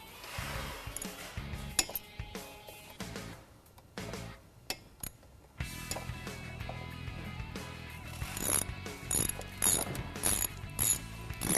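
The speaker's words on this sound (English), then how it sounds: "you're going to want to tighten up your caliper bolts" Bike brake caliper bolts are tightened with a ratcheting tool, giving repeated close metallic clicks and ratchet ticks in uneven bursts, with faint clinks and little or no talk.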